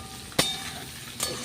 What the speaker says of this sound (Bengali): মশলার সঙ্গে ভেজে নেবো।